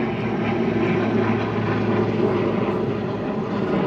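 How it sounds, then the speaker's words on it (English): An airplane drones steadily overhead outdoors by a vegetable garden, a loud continuous engine roar holding even throughout with no talking over it. "oh, thanks a lot, airplane."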